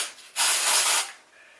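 A spray bottle of hairspray-scented glitter mist lets out one strong close hiss lasting about two-thirds of a second, followed by a faint trailing spray.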